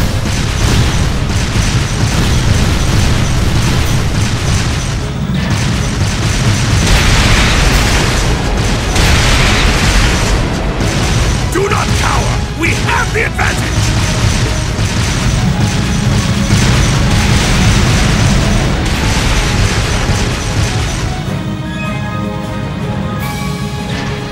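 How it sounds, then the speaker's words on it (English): A sustained artillery barrage in the JRPG The Legend of Heroes: Trails of Cold Steel 2, loud continuous booming explosions and crashing blasts rolling on for over twenty seconds with no letup. "Left flank, fire a barrage to cover your retreat!"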